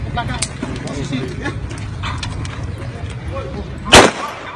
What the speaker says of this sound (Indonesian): nembakin peluru ke langit gitu guys, sebagai peringatan buat si Amok Ranesabet ini.